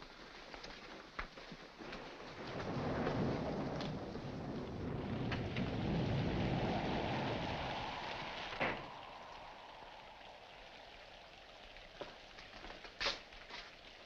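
Rain falls in a steady wash, swelling into a heavier rumble midway and then easing, with a few sharp cracks and ticks near the end, fairly faint and with no talk.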